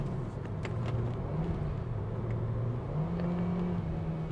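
A 2021 Mitsubishi Xpander's engine pulls under acceleration on a hill road near Genting after a downshift to second, a steady mid-low drone that slowly rises and steps up in pitch, heard from inside the cabin with road noise.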